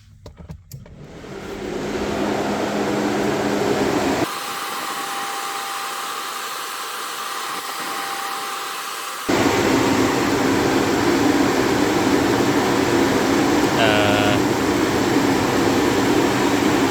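New Spal electric radiator fans on an 82-92 Camaro spin up and run with a loud, steady whooshing roar that shifts in pitch and volume as the fans switch speeds, with a brief faint tone partway through.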